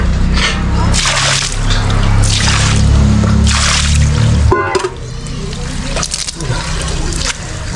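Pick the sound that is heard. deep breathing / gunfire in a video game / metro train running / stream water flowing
stream water flowing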